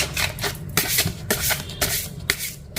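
Tarot cards shuffled close by in a series of brisk riffling bursts, each a short papery rush separated by brief pauses, with no voices.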